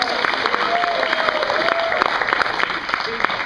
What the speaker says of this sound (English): Give him a big round of applause all the way from France.